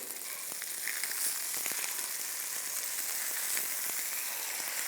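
Continuous bright sizzling and crackling of fish frying in hot oil, steady and close, with no voices.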